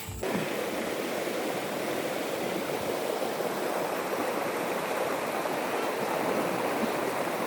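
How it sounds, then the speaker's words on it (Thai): Southern Thai mountain waterfall roaring as a steady, dense rush of falling water, close and continuous, with no voices. "เดี๋ยวเราจะ ไปดูน้ำตกตนเรือนะครับ"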